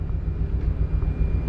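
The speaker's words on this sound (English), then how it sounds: "Now the helicopters that you see flying there, those are MH-60s." Two MH-60 helicopters fly over the Orion capsule splashdown site at sea, giving a steady, continuous low rotor and engine rumble at moderate distance with no speech.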